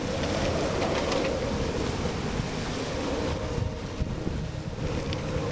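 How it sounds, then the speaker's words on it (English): Strong wind buffets a boat at a mangrove-sheltered anchorage, a loud continuous broadband roar with gusty rushing noise and some water wash, no voices. "the wind has started already"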